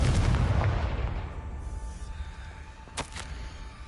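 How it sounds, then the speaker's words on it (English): Confringo fire spell from the Hogwarts Legacy video game blasting off in a deep booming explosion that rumbles and fades, followed by a couple of sharp bursts near the end. "Confringo!"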